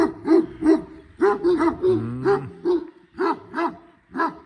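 Kazakh tobet mastiff dogs bark close by in a series of deep, loud, evenly spaced woofs, with a brief whine in the middle.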